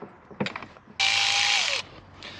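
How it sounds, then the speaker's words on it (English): Ratchet socket wrench clicking as it loosens the timing belt tensioner stud nut during a timing belt and water pump replacement, a steady loud burst of close ratcheting lasting about a second after some quieter handling noise. "get a spanner and a socket, and we can tighten these up, and then we should be able to use the spanner and loosen this out on the back nut"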